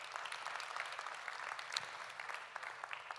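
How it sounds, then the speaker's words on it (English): Audience at a climate resilience knowledge event applauding a panel, a soft, fairly distant spatter of clapping that stays steady throughout. "I'd like you to give my panel a round of applause"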